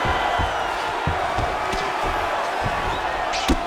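Arena crowd cheering in the EA Sports UFC 5 video game after an extended grappling exchange between Stipe Miocic and Cain Velasquez, a steady wash of crowd noise with scattered thuds and brief sharper accents throughout.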